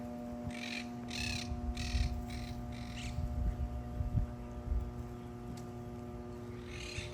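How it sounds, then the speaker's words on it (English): Quaker parrots call harshly in bursts from a nest built in a transformer station. The squawks are moderately distant over a low outdoor rumble and a steady electrical hum, with a final call near the end. "That's a Quaker parrot."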